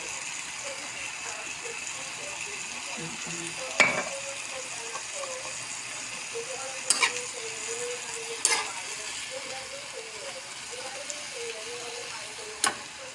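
Saluyot leaves sizzle faintly in a pan as soy sauce goes in, a soft steady frying hiss with several sharp utensil clicks against the pan, while a person talks quietly.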